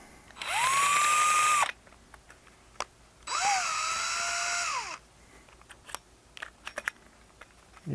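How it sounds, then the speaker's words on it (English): A power drill fitted with a cone splitter runs in two loud bursts, each spinning up to a steady whine and then winding down, with quiet gaps and a few small knocks between them. "I'll put this in my drill."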